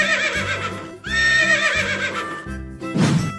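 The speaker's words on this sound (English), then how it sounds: "Horse." A horse neighs loudly near the end, a shrill whinny rising over a background of bright children's cartoon music and chatter, one of a series of animal sounds in a kids' toy car game.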